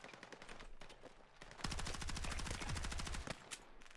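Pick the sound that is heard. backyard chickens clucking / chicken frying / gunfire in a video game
gunfire in a video game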